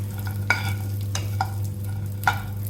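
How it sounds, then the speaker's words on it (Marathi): Raisins roasting in a dry pan for dinka dry-fruit ladoo, stirred with a spatula in three or four distinct scraping strokes over a low steady hum. "तर आता पॅनमध्ये आपण मनुके टाकणार आहोत आणि मनुके भाजून घेऊया."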